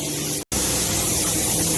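Steady, loud hiss of spray painting inside a car paint shop, a dense broadband rush that cuts out for an instant and then resumes, continuous and close.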